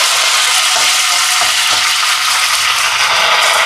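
Curry leaves crackle and sizzle loudly in hot oil while being tempered for a Jaffna-style curry, a dense, continuous frying hiss close up with no voices.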